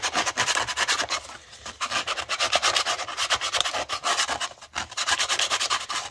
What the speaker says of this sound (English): don't worry about scuffing the model with the sandpaper